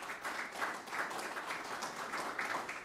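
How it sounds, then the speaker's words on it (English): Audience applause at a university Hall of Fame media conference, a soft, distant and even patter of many hands clapping that holds steady for a few seconds. "So a round of applause for them."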